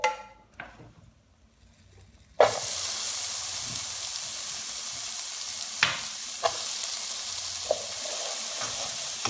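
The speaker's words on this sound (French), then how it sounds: "Et je fais revenir mes oignons." Onions frying in a pan: after a quiet start with faint clatter, a loud steady sizzle sets in and carries on, broken by a few brief scraping stirs, with no voices.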